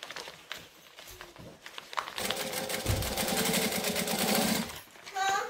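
A sewing machine back stitches on a tutorial project, running in a fast steady mechanical rattle for about three seconds after a few quiet stops and starts, with a voice speaking softly nearby.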